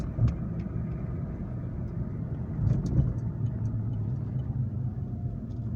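A 2006 Acura TL with a six-speed manual gearbox pulls away in second gear, its engine giving a low steady rumble heard from inside the car, moderately loud with a few faint clicks and no talk.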